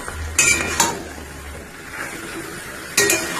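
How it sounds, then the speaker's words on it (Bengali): A utensil stirs marinated chicken in a pan, giving a few sharp metallic clinks against the pan over a soft background of scraping and light cooking noise. "ভালো করে একটু নাড়িয়ে মিশিয়ে নিচ্ছি"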